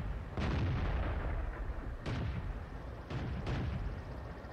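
Cannon shots from a Hetzer tank destroyer in the World of Tanks video game: two or three loud, close booms with long rumbling tails, one about two seconds after the first and two more a second apart, heard alone with no talk.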